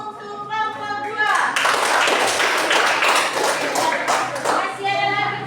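A school class claps for a student group, a burst of brisk, close applause that starts after a few spoken words and runs for several seconds before voices return.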